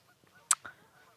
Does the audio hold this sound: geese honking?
yes